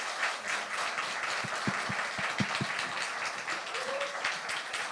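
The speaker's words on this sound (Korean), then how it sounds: "큰 박수 부탁드립니다." An audience at a university breakfast classical music lecture forum applauds to welcome the lecturer, a dense, steady wash of many hands clapping at moderate distance for several seconds, with a few louder low thumps nearby.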